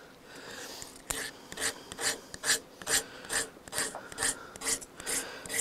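A knife shaves fatwood into fine shavings with about a dozen sharp, rasping scrapes in a steady rhythm, close and distinct, outdoors beside a fire setup.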